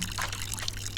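A plant is watered in the video game Botany Manor, a soft, steady pour of trickling water with a low background hum, brief and fairly quiet.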